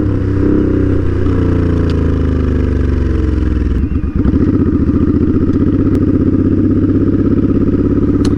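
A 2013 Suzuki Boulevard M50 bobber motorcycle with aftermarket exhaust pipes runs loud and close, a steady deep V-twin rumble that dips briefly before revving back up to a throbbing idle, with no voices.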